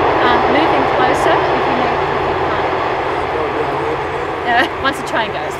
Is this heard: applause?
no